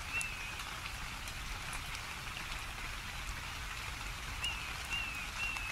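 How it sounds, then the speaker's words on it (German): Rain falling in the video game ARK, a continuous, even patter and hiss of raindrops with a few faint high chirps over it and no voices. "Und es regnet noch dazu."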